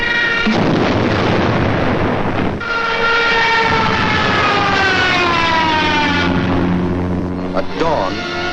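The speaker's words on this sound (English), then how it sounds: "At dawn, on April 6th, German bombs told the Yugoslavians they were at war with Germany." German aerial bombing at dawn on April 6th over Yugoslavia: loud, rumbling explosions under a wailing air raid siren whose tone rises and falls, dense and continuous, with a voice narrating over it.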